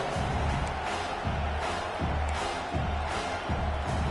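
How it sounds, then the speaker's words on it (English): Stadium crowd in the video game NCAA 26 football, South Carolina vs Alabama, a dense continuous roar with gentle swells, steady and loud throughout. "Man, this crowd really affecting the football game."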